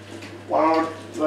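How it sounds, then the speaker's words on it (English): An Electrolux dishwasher in its main wash on the Intensive 75 program gives a brief watery swish and splash over a steady low hum, close and fairly loud. "the dishwasher is certainly in the main wash"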